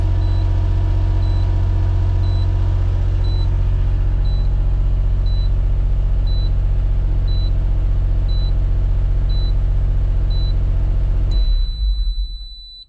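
Evenly spaced electronic beeps from an HKS turbo timer repeat over a steady idling engine rumble in an Autozam AZ-1, until the engine shuts off and the beeping stops.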